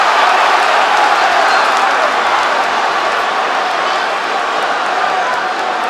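Arena crowd at a UFC 302 fight between Islam Makhachev and Dustin Poirier roaring steadily throughout, a dense, loud wash of cheering and applause with no clear breaks.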